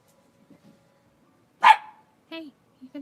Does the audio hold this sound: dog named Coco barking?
yes